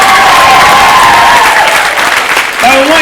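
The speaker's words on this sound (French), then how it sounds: "Là, même si c'est pas la bonne réponse, on applaudit." Loud crowd applause and cheering at a live comedy show, continuous and dense, with a host's voice shouting over the noise near the end.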